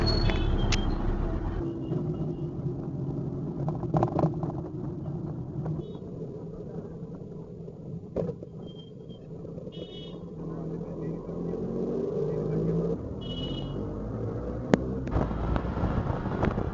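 Auto rickshaw ride through Guwahati traffic, a steady rattling engine drone with wind noise, passing horns and occasional bumps throughout, with brief voices.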